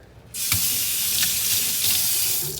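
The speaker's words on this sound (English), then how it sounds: "We need to rinse these off, so we're going to run them under cold water." Mint leaves rinsed under a cold kitchen tap while preparing hummus kawarma: a steady, close hiss of running water starts abruptly and continues throughout, with a few faint splashes as the leaves move under the stream.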